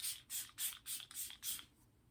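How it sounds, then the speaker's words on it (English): Milk Makeup Hydro Grip setting spray mists onto a face in six quick, evenly spaced hissing pumps, close and soft with no talking. "I'm gonna quickly spray myself with that"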